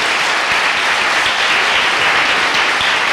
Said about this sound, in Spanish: Les pido un aplauso para el doctor Acuviera.